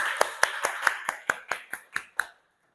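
Around ten separate, evenly spaced claps at a moderate pace during an online teacher training session, sounding like a single person or a few people clapping close by, then stopping.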